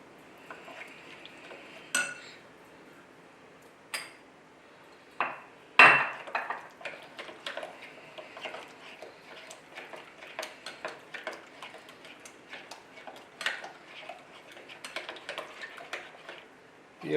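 A spoon stirs a curd and buckwheat flour batter in a pot, giving steady light clinks and taps against the rim at a close, quiet level, with a few sharper knocks early on.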